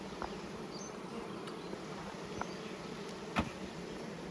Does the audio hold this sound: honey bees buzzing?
yes